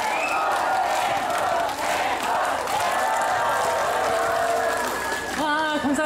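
A festival audience at an outdoor celebration concert in Uiryeong claps and cheers loudly in a sustained roar of whoops and applause, ending with a brief sung or spoken phrase over the crowd.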